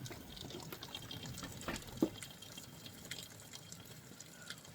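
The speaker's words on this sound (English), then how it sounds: "The water is literally coming in the window and it's closed." Storm rainwater drips in through a closed window, a faint, continuous watery trickle with scattered soft drips and a clearer drop partway through.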